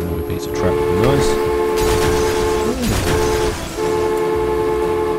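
Railway sounds from a Transport Fever 2 game, with a train horn sounding in rising and falling tones several times over steady rolling rail noise, under someone talking.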